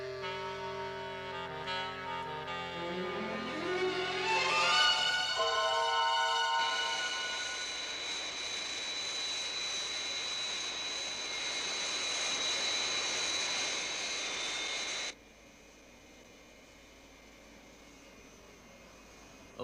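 The Fire Flash airliner climbing away after takeoff for Tokyo, a loud jet engine roar with a rising whine that levels into a sustained drone and then drops to a quieter steady rumble.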